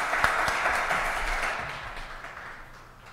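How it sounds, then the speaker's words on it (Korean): A church congregation at a Sunday service applauds briefly, a burst of clapping that is loudest at the start and fades away over about three seconds. "하나님께 영광의 박수 돌려드리겠습니다."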